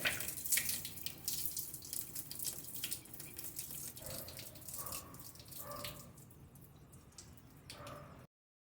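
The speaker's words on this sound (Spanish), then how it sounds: "mande la señal a la válvula solenoide que está normalmente abierta. De esta forma empieza a salir el agua" Water flows out through a normally open solenoid valve on a prototype, a faint continuous splashing and trickling with scattered drips, quiet and alone before cutting off.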